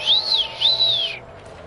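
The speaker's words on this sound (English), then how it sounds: "Someone's um, whistling at me." Two rising-and-falling whistles in quick succession in Borderlands 2, clear and fairly loud over a low steady hum, like a wolf-whistle call.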